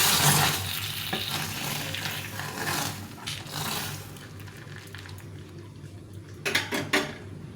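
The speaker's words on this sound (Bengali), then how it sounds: "এখন তড়কা মশলাটা দিয়ে দেবো ডালের।" Tadka spice tempering with bay leaf sizzles as it is added to a simmering ridge gourd lentil dal. A loud hiss fades over several seconds as the pot is stirred, and a few sharp clinks of utensils against the pan follow near the end.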